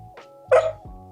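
A dog gives a single short bark indoors, close and moderately loud, with a low whine-like tone before and after it.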